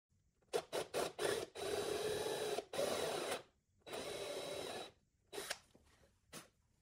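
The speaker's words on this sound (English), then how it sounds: "Drill a 5/16 inch diameter by 1/2 inch deep hole." A drill bores a 5/16 inch hole, half an inch deep, into wood for a Murphy bed build, running in short bursts and longer whirring runs with brief pauses between them, close and fairly loud.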